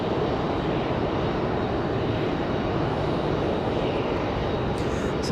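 ATR turboprop airliner on short final at Raleigh-Durham airport, a steady, loud broadband engine and propeller roar that holds constant throughout with no talking.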